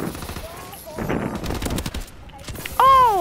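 Rapid automatic gunfire bursts from a video game shooter crackle in quick strings, with a voice talking in between and a rising electronic tone at the end.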